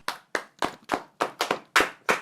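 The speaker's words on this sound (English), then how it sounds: "Okay, let's clap." A small group claps hands at a casual talk-show slumber party, about nine crisp separate claps in a loose, slightly uneven rhythm, close and clear with no talking.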